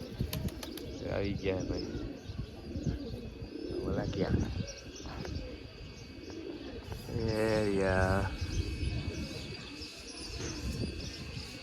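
Pigeons that have just been bathed coo softly in a loft, with chirps and brief wing flaps, under a voice talking nearby.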